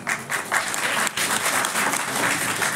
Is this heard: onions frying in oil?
no